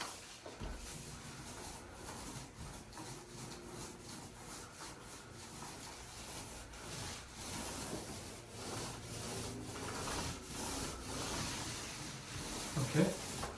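A paint roller rolls paint onto a wall in long top-to-bottom strokes, making a soft, repeated sticky rubbing and swishing that stays fairly quiet and continuous.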